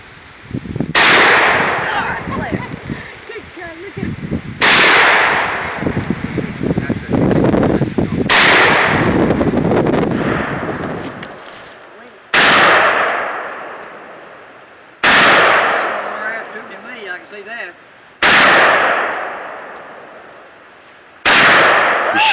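Gunshots at outdoor target practice ring out as sharp, loud single cracks spaced a few seconds apart, each trailing off into a short echo, with people talking between shots.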